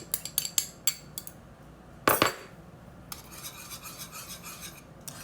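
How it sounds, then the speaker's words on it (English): A whisk scrapes and rubs around a bowl, stirring melted butter into thick homemade chocolate pie filling. Quick strokes come first, then a sharp clink of metal on the bowl, then steadier rhythmic scraping, close up with no talk. "We're going to whisk that in."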